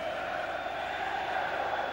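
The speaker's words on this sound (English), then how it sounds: "The crowd are singing too" Football stadium crowd singing at a World Cup 1994 qualifying match for England, a distant, steady blended chorus with no clear breaks.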